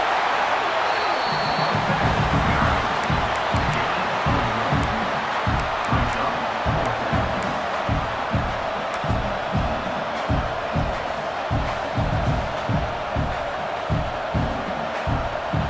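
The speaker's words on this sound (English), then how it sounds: "Here comes this home crowd as the defense tries to get off the field on 3rd down." Loud home stadium crowd roars and cheers in a college football video game as the defense faces third down, Ole Miss versus Oklahoma State, a dense steady roar with rhythmic pulsing chants throughout and no talk over it.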